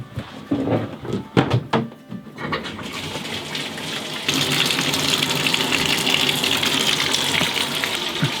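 A bathtub tap runs full, water gushing steadily into the tub to soak an old salted animal skin. A few handling knocks come first, then an even, continuous rush of water.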